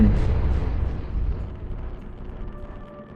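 A single explosion in the horror game Lost Brother, a loud deep boom at the start that rolls off into a fading rumble over a few seconds, heard alone.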